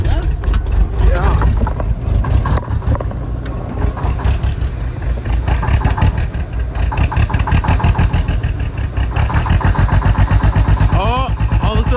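A 1984 Kenworth C500 truck engine running loud and close just after its first start in 20 years, a dense rumbling drone with rhythmic cylinder pulses throughout, while people talk excitedly over it.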